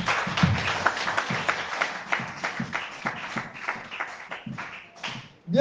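A church congregation claps in a steady rhythmic beat, many hands striking together in regular pulses at a moderate volume, ending on a sudden louder burst.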